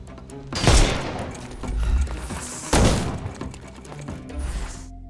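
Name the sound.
gunfire in the video game Sherlock Holmes: Chapter One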